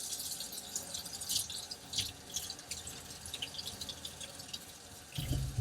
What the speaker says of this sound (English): Now I'll rinse the brush out.